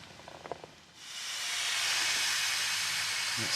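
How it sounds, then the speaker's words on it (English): Blaa Band stroganoff cooks outdoors in Hurt Wood on an MSR stove. After a few soft knocks, a loud, steady fizzing hiss starts and holds nearby until the end. "That's fizzing up nicely."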